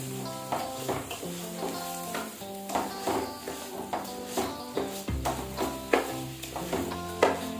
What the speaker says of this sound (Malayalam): ഇതിലെ വെള്ളമൊക്കെ ഒന്ന് ഡ്രൈ ആയി വരുന്നത് വരെ നമുക്കിതൊന്ന് വറുത്തെടുക്കാം.